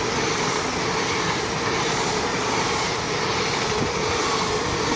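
LNER Class 800 train 800102 passing straight through Peterborough on the main line, a loud, steady broadband roar of rolling wheels and rushing air sustained throughout without any voices.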